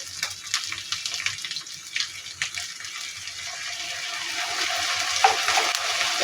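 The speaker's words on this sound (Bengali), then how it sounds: "মশলাগুলো যাতে আমার পড়ে না যায় আমি এখানে সামান্য পরিমাণে পানি দিয়ে দেব" Water poured into a pan of onion, ginger and garlic paste frying for a pointed gourd kofta curry, a soft running pour mixed with a low steady sizzle, growing slightly louder toward the end, with no voices.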